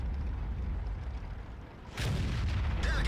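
A 150mm RHM tank gun fires in a World of Tanks battle, one heavy boom that breaks sharply over a low rumbling engine drone, followed by a trailing blast and debris.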